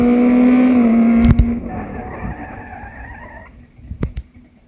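A gasser car engine roars loudly during a tire-smoking burnout, holding a strong steady drone before cutting off abruptly, then fading into softer engine noise with a couple of sharp knocks.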